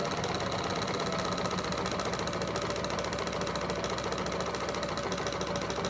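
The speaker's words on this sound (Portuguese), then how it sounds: "E eu vou começar a fazer a costura." A sewing machine stitches a fabric bread basket with a fast, even mechanical chatter, running loud and close without pause and with no voices.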